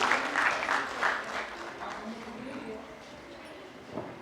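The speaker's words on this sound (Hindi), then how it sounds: "एक बार जोरदार तालियां बजा दीजिए इन बच्चों के लिए" An audience claps for a children's theatre performance about the warrior queen Jhalkari Bai: dense applause that peaks early, then gradually thins and fades, with no speech over it.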